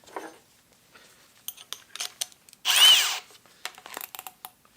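A Kobalt brushless hammer drill on speed 2 drives a 1.5 inch self-feed spade bit in one loud, steady burst of about half a second, with scattered clicks and handling noises before and after.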